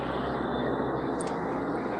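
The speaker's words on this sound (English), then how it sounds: "You got a plane going over you, Rui?" A fixed-wing airplane passing low overhead at night, a steady broad engine roar that stays loud and even throughout, with no voices.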